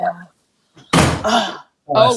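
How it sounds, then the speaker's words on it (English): A house door slams shut with a loud, sharp bang and a latch clunk at close range. A brief voice comes just before it. "She slammed the door."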